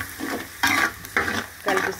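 A spoon stirs garam masala, salt and turmeric into a sizzling mixture in a pan, giving three loud scraping strokes over steady frying.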